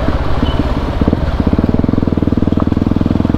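Yamaha WR 250 supermoto motorcycle engine running while riding, a steady loud rumble with rapid firing pulses that settle into an even throbbing rhythm, close up with wind noise and no talk.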